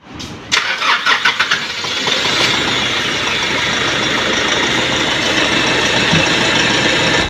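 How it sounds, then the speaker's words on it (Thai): Nissan NP300 diesel pickup engine cranking with a rapid, stuttering starter rhythm for about two seconds before catching, then settling into a steady, loud idle with a rough edge that continues to the end, no talk. "รถคันนี้มีอาการสตาร์ทยาวนะครับ"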